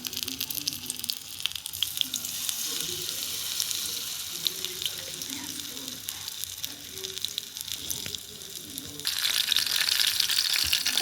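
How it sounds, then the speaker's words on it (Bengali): Battered chicken and vegetable sticks deep-fry in hot oil with a continuous, close sizzling hiss that swells louder near the end, with soft low thumps and clatter underneath. "তো চলো এটাও এবার আমি তেলে দিয়ে দিই।"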